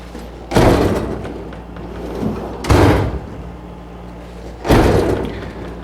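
Three loud sliding runs of an ICON toolbox drawer with adjustable tension, each a broad rushing stroke ending in a firm stop, spaced about two seconds apart with quieter handling between.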